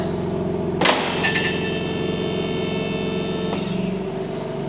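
A BMW G82 M4 engine idles while warming up, a steady loud rumble with a sharp rev flare near the start followed by a sustained high-pitched whine, all close and continuous with no talking.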